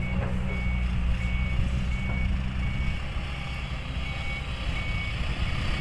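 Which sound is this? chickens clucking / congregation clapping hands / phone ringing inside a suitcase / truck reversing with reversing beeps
truck reversing with reversing beeps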